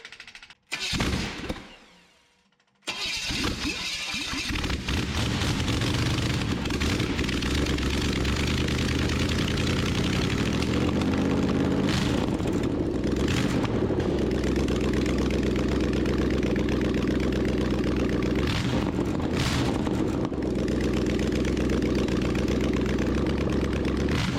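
A supercharged, bone-stock junkyard small-block V8 fires up after a brief stumble and settles into a loud, steady, rumbling run with occasional revving surges over about twenty seconds.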